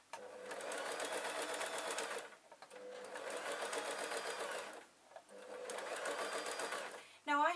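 A sewing machine stitches around the edge of a fabric sunhat in three close, steady runs of rapid whirring, each separated by a brief pause.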